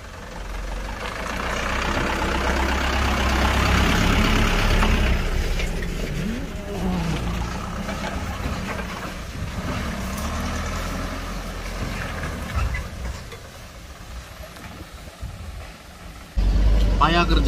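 A modified truck engine drones and labors as it drives on a rough, tilting road while hauling palm oil fruit, rising then easing off, with people talking over the rumbling noise.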